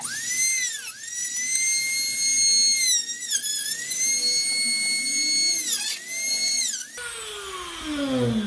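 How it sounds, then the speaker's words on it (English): A Dremel rotary tool cutting into a shell gives a high, close whine that dips and recovers as the bit loads up under pressure, continuing steadily before shifting to a lower descending spin-down tone at the end. "A little bit difficult to do it with a Dremel just because it's smaller, but I'm getting there slowly but surely."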